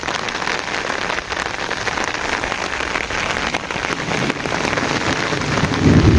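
Heavy rain pours over village fields beside a pond, a dense, loud and unbroken patter that swells slightly toward the end.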